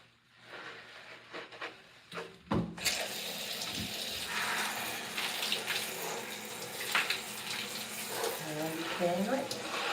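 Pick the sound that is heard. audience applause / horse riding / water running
water running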